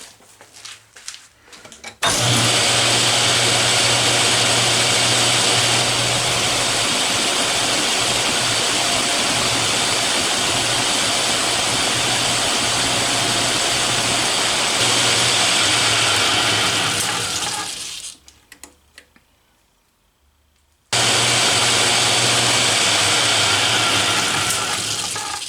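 An Atlas lathe turns down a collet blank, a loud steady whirring drone with a low hum that starts abruptly, runs evenly, fades and cuts out briefly, then restarts at full strength.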